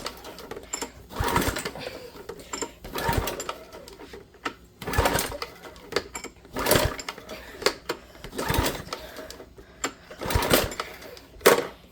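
A small engine pull-started repeatedly but failing to start: six evenly spaced pulls of the recoil cord, each a brief rattling chug of the engine turning over and then dying away, close and fairly loud.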